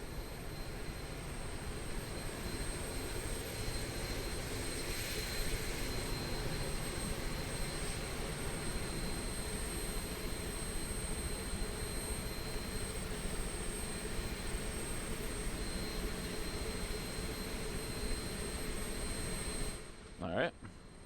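A De Havilland DHC-6 Twin Otter turboprop engine runs steadily in a flight simulator game, a loud continuous drone with a faint high whine, holding nearly constant for about twenty seconds before a brief rustle at the end.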